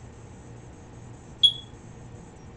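A single short, high-pitched electronic beep chirps once in an otherwise quiet room.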